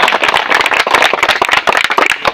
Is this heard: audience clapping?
yes